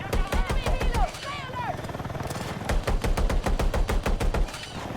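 Rapid bursts of automatic gunfire in the shooter game Battlefield 6, loud and repeated in stuttering volleys with brief gaps, while players talk over the shooting.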